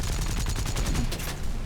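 Rapid .50 caliber machine gun hits strike the player's A6M Zero fighter in War Thunder, a dense, steady clatter of rounds running continuously and fairly loud throughout.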